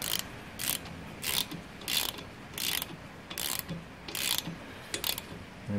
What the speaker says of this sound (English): I'm just going to tweak these up with a normal ratchet for now